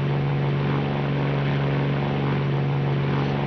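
A P-40M fighter's engine throttled back to reduced power in the IL-2 flight simulator gives a steady, loud droning hum with a strong low tone and a constant propeller buzz, unbroken and close, with no speech.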